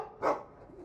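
A dog in the video game Dragon Age 2 gives a single short bark, close and fairly soft against quiet background sound.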